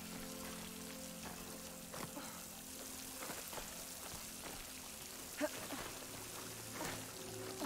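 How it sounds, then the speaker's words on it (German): Water flowing into a wall in the game Horizon Forbidden West, a faint, steady trickling and pattering wash with occasional splashes, heard quietly throughout. "Da fließt Wasser."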